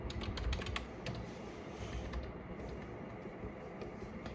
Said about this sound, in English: You can keep it in your lap and start typing without any difficulties faced.